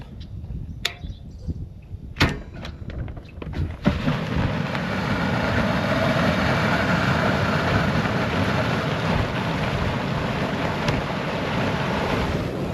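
After a few knocks and clicks, a loud, steady mechanical roar of an electric irrigation system's wheels starts up in a soybean field and drones on with a rough, windy rush.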